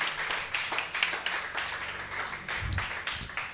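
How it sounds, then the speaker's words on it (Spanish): Congregation clapping for the Lord in a church service before a systematic theology study, a fairly steady patter of hands filling the room, moderately loud, with no talking over it. "Den un aplauso al Señor ahí para que comencemos"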